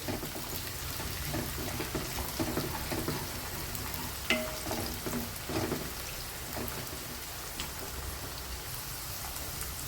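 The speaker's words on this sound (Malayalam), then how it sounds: "അങ്ങനെ നമ്മുടെ ഉള്ളിയും വെളുത്തുള്ളിയൊക്കെ മൂത്ത് വന്നിട്ടുണ്ട്" Onion, garlic and sliced green chilli sautéing in a pan over low heat, a soft continuous crackle with occasional light stirring, fairly quiet and with no talking.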